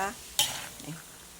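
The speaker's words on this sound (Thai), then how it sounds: "ใส่น้ำมันนิดนึงนะคะ แล้วก็ ใส่ถั่วลงไป ไฟเบาๆนะคะ เราก็จะ ทอดไปเรื่อยๆเนาะจนกว่าเขาจะสุกนะคะ" Peanuts fry slowly in a little oil over low heat, with a faint sizzle and one sharp stirring scrape or clink partway through.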